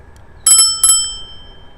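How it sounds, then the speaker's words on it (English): A small twist bell on a scooter gives two quick bright rings in succession, clear and close, each leaving a brief metallic ring-out. "No, it only has a bell. You have to twist it."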